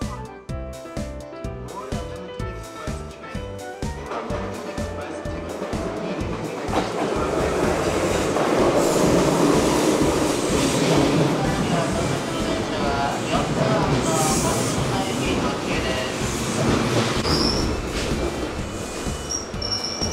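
Kintetsu trains, including a double-decker Vista Car limited express, at Yamato-Yagi station, rolling through with a loud, steady rumble and rhythmic wheel clatter that builds midway, with faint squeals near the end.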